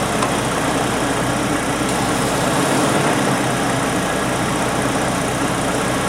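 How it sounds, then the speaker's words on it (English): A car engine idles in a steady, loud, unbroken drone while propane is fed into it during oxygen sensor and fuel trim testing. "I'm going to inject propane into the engine."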